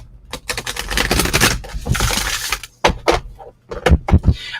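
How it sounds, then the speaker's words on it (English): Rapid riffling and flapping of large oracle cards being shuffled up close, with a few sharp slaps and taps near the end. "more shuffle on these huge cards."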